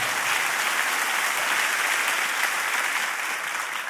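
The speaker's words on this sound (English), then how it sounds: "Come on, clap like that blessed you" A church congregation claps steadily and loudly during a pastor's sermon, a dense, even wash of applause that holds for several seconds before easing slightly at the end.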